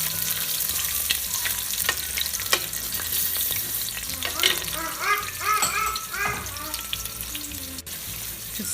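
Onions, fenugreek seed and a cinnamon stick sauté in hot oil for crab curry, a steady close sizzle with crackling pops and the scrape of stirring throughout.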